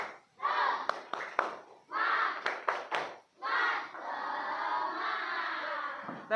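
Classroom of children shouting a rhythmic clapping chant in bursts, group voices punctuated by sharp hand claps, the cheer repeated in several loud phrases with short pauses.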